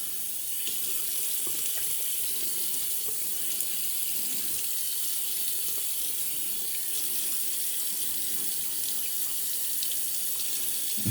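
Tap water runs steadily into a sink during a wet shave, re-wetting the face before lathering a second pass with shave cream; a continuous, even splashing hiss fills the whole stretch without speech.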